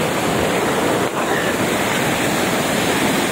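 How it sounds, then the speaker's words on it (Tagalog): Strong river current rushes near Aliwagwag Falls, a loud dense continuous roar of churning water, steady and close throughout. "Medyo malakas yung agos ng tubig."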